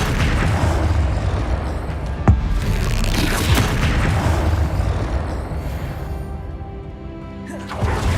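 The Confringo fire spell bursts in Hogwarts Legacy on PS5, a dense rumbling explosive wash with a sharp impact hit partway through, loud and continuous across the whole stretch.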